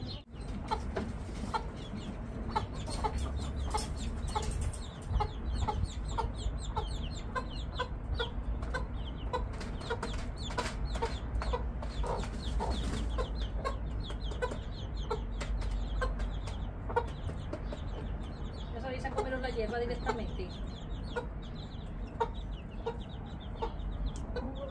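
Chickens cluck repeatedly and close by, a busy irregular stream of short clucks over steady outdoor background noise.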